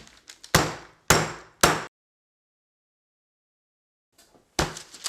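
A meat tenderizer pounds turkey breasts flat on a board: three loud, sharp thuds, a long silent pause, then more heavy strikes starting, each hit close and percussive.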